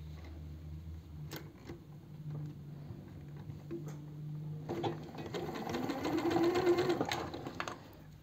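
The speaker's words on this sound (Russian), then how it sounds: "обрабатываем вот таким тоненьким московским швом" A sewing machine stitches a narrow rolled seam on silk for a blouse, starting with a few short bursts and then running a longer, louder continuous stretch of rapid mechanical ticking, heard up close and without any talk.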